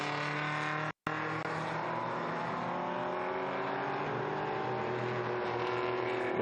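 Historic racing cars at the Estoril circuit during an endurance race, an engine droning steadily with its pitch slowly shifting, briefly cut off near the start before resuming at a constant level.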